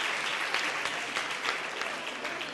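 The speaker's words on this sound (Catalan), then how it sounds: "Aplaudiment" Studio audience applause on a Catalan word-spelling game show, a dense, steady clapping that fills the whole moment without rising or fading, fairly loud and close.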